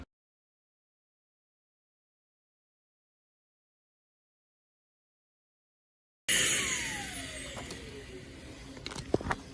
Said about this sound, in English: I took my little vacuum cleaner here and just taped on a hose from my suction pump, and now I'm just going to see if I can vacuum with it